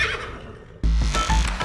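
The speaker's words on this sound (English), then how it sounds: "a four-year-old quarter horse named Clover" A horse neighs loudly in a Cities: Skylines radio commercial, a sudden whinny bursting in after a quieter stretch and carrying to the end of the short clip.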